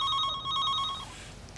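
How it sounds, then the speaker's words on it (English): An old-style landline telephone bell ringing in a home, a clear close electronic ring that cuts off about a second in. "That'll be my mum now, ringing up to sort out the flights."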